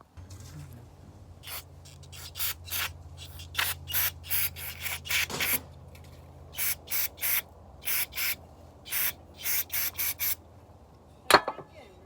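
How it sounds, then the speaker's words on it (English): Short bursts of aerosol carb cleaner hiss onto a Predator 212 engine in an irregular series, with brief pauses between them, close by and fairly quiet. "we'll spray some carb cleaner on there"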